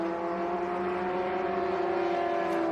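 A single-seater race car on the Watkins Glen road circuit drones steadily at mid revs, holding back rather than pushing flat out, a continuous even engine tone with no talk over it.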